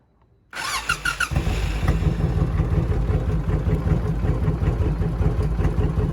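A motorcycle fitted with semi truck lights and a voltage regulator cranks with a brief starter whir, then catches and settles into a loud, steady, pulsing idle heard up close.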